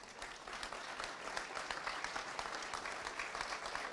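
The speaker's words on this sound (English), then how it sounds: "These are Apollo astronauts. Please, a round of applause." An audience at an aerospace show panel gives a sustained round of applause for Apollo astronauts, dense even clapping throughout, fairly distant and quiet, with no voices over it.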